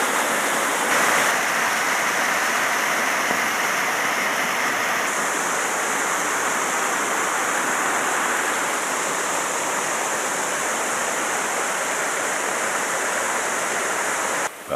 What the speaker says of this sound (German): Der letzte und höchste Wasserfall.